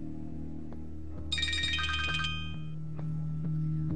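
A mobile phone ringtone chimes in a short bright melodic burst of bell-like tones, fairly clear over a low steady hum in a quiet indoor room.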